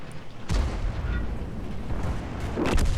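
A tank cannon shot booms in a World of Tanks battle, followed by a rumbling tail and a second heavy blast near the end, loud and close with no talking.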